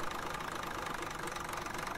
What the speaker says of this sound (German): Also für so einen alten Diesel hört er sich verdammt gut an.